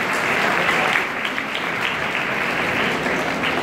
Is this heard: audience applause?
yes